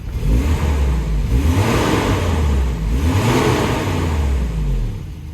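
A Volvo redblock car engine revs loudly and steadily, rising and falling in pitch before settling back to idle, heard up close with no talk.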